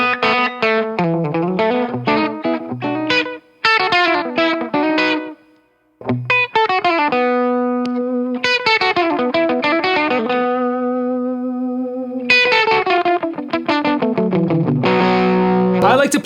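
Electric guitar played through a Mythos Susmaryosep V2 echo pedal, with distorted chords and picked phrases trailed by repeating echoes and sustained ringing tails, loud and close, with a short gap near the middle.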